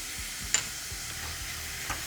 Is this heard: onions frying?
yes